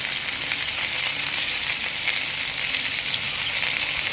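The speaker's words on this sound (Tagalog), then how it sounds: "Talsik yung mantika." Chicken feet frying in hot oil for spicy adobo, a steady, loud hiss of sizzling and spattering oil that runs unbroken throughout, close up and with no voices.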